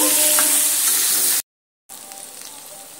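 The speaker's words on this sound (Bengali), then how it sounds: "নুন হলুদ এইভাবে নেড়ে চেড়ে বেগুনের মধ্যে এইভাবে মিশিয়ে নিয়ে বেগুনটা আমি এখানে সুন্দর করে একটু ভেজে নেব।" Brinjal (eggplant) slices coated in salt and turmeric frying in a pan, a loud, bright, continuous sizzle with a short silent gap before the hissing resumes more quietly.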